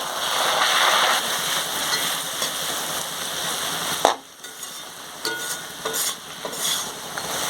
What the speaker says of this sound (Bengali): দিয়ে দেবো টমেটো সস, দিয়ে দেবো চিলি সস। সব কিছু দিয়ে আরও একবার ভালো করে নেড়ে নেবো।